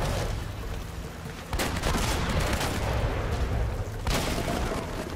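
Loud shotgun blasts and gunfire in the video game Uncharted, with two sharp heavy reports amid continuous dense battle noise and crackling fire.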